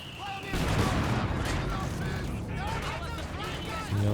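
Double mortar strikes in a Company of Heroes 2 2v2 match, explosions and battle fire rumbling under continuous battlefield noise while a commentator talks over them.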